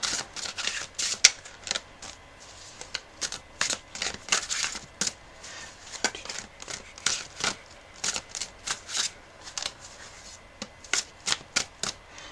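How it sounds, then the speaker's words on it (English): Rapid, crisp riffling bursts of a deck of tarot cards being shuffled, repeating in quick irregular clusters, close up and fairly quiet. "as I'm just shuffling the cards"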